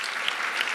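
Conference audience at a welcome session applauding, a brief dense burst of clapping heard close and steady, with no talk over it.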